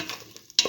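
A potato coconut stir fry is stirred in a hot pan, with a soft sizzle, a couple of faint scrapes, and then a sharper clink of the utensil near the end.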